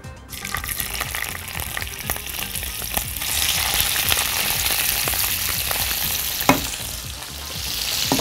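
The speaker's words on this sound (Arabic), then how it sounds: "اول ما زيت الزيتون يسخن جامد قوي هحط السجق عشان انا عايزاه ياخد لون على طول" Sausage frying in very hot olive oil gives off a loud, steady, close sizzle that holds for the whole stretch with no talk over it and swells slightly partway through.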